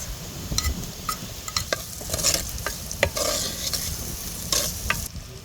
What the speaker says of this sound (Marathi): आता थोडा कांदा टाकून आता कांदा व्यवस्थित भाजलाय दोन तीन हिरव्या मिरच्या घेतल्या तर एक टमॅटो ही यात टाकायचं